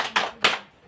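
Two quick hand claps in close succession during a classroom clapping chant, fairly near, with nothing else around them.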